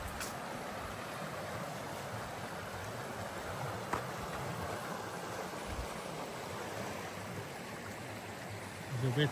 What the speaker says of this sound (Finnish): Se vettä juoksee nyt kun kaikki sulaa.